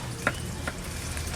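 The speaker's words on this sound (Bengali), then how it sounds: "তেল গরম হয়ে গেছে। এবার গাজর, বিনস আর ক্যাপসিকাম একটু ভেজে নেবো।" Carrots, beans and capsicum fry in hot oil, a steady close sizzle broken by a couple of brief stirring scrapes, with no voices.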